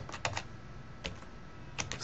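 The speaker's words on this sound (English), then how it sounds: "That's where you're going to be typing in your code." Keys clack on a computer keyboard as code is typed, with a few short bursts of quiet taps separated by pauses against a faint background hum.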